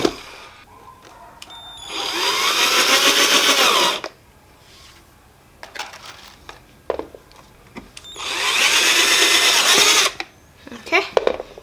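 A power drill drives screws into a wooden plant stand on wheels, running in two loud sustained bursts of about two seconds each, with short pauses, handling clatter and a few quiet words between them.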